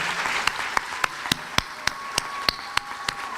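Applause at a college commencement ceremony, a soft background of many hands clapping with a series of crisp, regularly spaced loud claps standing out close by.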